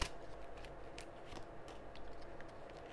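Tarot cards being laid out and shuffled, a soft continuous papery rustle with faint flicks and slides, fairly quiet and close.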